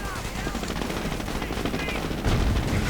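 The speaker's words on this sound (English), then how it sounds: "Now the Grenadiers moving forward, coming under heavy fire from the British tanks once more." Dense gunfire fills a video game battle between Commonwealth and Wehrmacht forces with British tanks firing on advancing Grenadiers, as rapid, overlapping bursts form a loud, continuous roar with a stronger thump near the end, and a voice commentating faintly beneath it.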